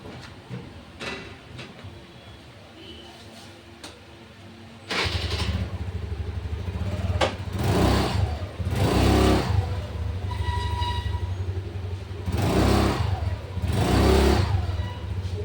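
TVS Jupiter scooter with a pickup problem starts up and is revved hard in repeated bursts, the engine note climbing and falling close to the microphone after a quiet idle-like stretch.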